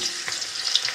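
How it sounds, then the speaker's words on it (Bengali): Potatoes fry in hot mustard oil in a pan, giving a steady, close, bright sizzle with small crackles and a faint stirring scrape, and no voices. "এই যো আলুগুলো ভাজা হচ্ছে"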